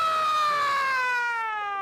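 A person vocally imitates a siren, a single loud, clear, drawn-out wail that slowly falls in pitch, sustained alone with no other sounds.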